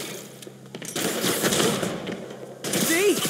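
Gunfire in the video game Marvel's Spider-Man Remastered breaks out as dense, rapid bursts of automatic shots, moderately loud, with a short lull between volleys and voices shouting over it.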